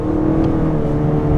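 Kia K8 engine revving hard under full throttle, a loud sustained droning roar with steady pitch heard from inside the car, no talking.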